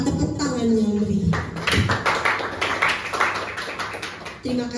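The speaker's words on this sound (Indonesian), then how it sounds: "memberikan semangat kepada Ibu Ertina Lidiawati berupa tepuk tangan yang meriah" An audience at an Indonesian teachers' session gives lively applause for a speaker, a burst of clapping that swells after a brief spoken lead-in and rattles on for about three seconds before voices return.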